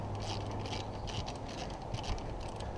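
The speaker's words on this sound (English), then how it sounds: "you can fit it properly and remove this bolt completely" A ratchet loosens a front brake bolt on a second-generation VW Sharan, making a fast, continuous run of close metallic clicks over a low background hum, with no voices.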